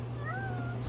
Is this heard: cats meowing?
yes